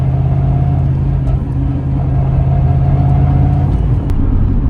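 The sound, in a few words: 1990s car with T5 transmission driving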